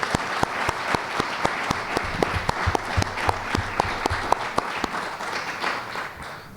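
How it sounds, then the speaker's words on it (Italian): Audience at a lecture on the historic buildings of Venice claps after the talk, a fairly close round of applause with distinct sharp claps standing out over the steady patter, tapering off at the end. "Un applauso."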